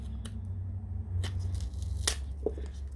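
Plantain skin is pried up with a knife and peeled by hand, giving a few quiet crisp tearing and scraping sounds over a low steady background hum.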